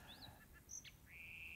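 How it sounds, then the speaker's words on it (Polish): Several birds chirp and whistle with short rising and falling calls, one ending in a sustained high note, over quiet outdoor background noise. "O, teraz słyszymy ptaszki."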